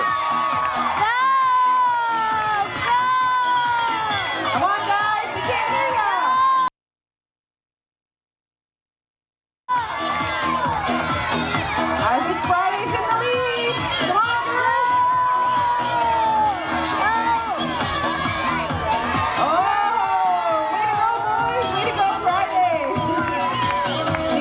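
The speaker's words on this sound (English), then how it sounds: "the louder you cheer, the faster your ferret will go" A loud, lively crowd of adults and children cheers, whoops and shouts for ferrets racing through tubes, the noise sustained and continuous with a brief silent gap partway through.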